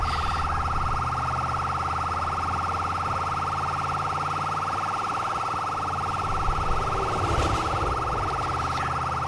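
An ambulance siren in GTA IV blares loud and close as a continuous electronic wail with a steady pulsing tone, running the whole time with faint traffic noise underneath and no voices.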